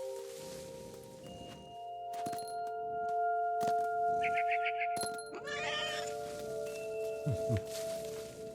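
A cat meows in the video game What Remains of Edith Finch, several short high cries clustered near the middle over a steady musical drone with soft rustling and footsteps.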